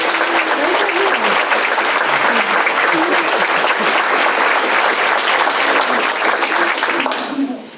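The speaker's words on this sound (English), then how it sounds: "So I know those three deserve a round of applause" Loud, continuous applause from a large audience at a women's achievement awards ceremony hosted by a chamber of commerce, steady throughout and then tapering off at the end.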